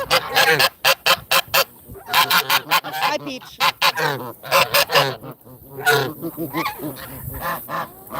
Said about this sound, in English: is actually a hybrid Canada goose